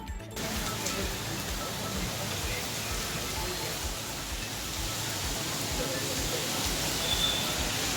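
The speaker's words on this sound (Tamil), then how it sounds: "இதேபோல் திருத்தணியில் பெய்த திடீர் கோடை மழை காரணமாக வெப்பம் தணிந்து குளிர்ந்த சூழல் நிலவியது." Sudden summer rain pours steadily in Tiruttani, a dense, even wash of falling water that holds constant from start to finish with no voices.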